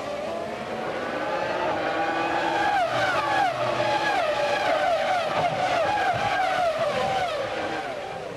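Formula 1 cars of the 2001 season screaming through the opening corners at the Monaco Grand Prix street circuit, high-revving engines rising and falling in pitch as several cars pass and shift gears, loud and continuous.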